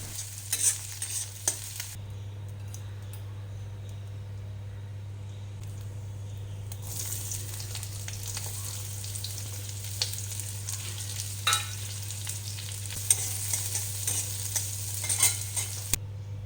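Leftover cooked rice fries in a pan, a soft continuous sizzle with a spoon now and then stirring and scraping against the metal, close by, with no talking.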